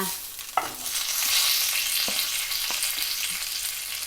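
Bay leaves sizzle in hot oil with a steady frying hiss, broken by a few sharp clicks and taps as the pan is stirred.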